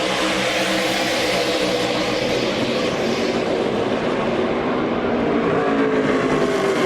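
NASCAR Camping World Truck Series trucks roar past in a pack at the Phoenix International Raceway restart. The sound is a dense, loud, continuous engine roar from the field, with no speech.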